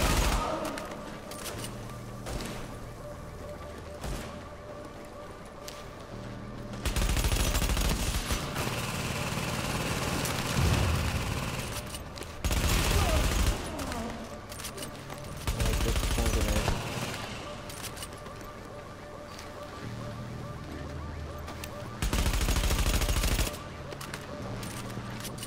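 Sustained automatic gunfire in The Division video game, dense loud bursts of rapid shots continuing for the whole stretch with short lulls between volleys, and a voice briefly heard under the shooting.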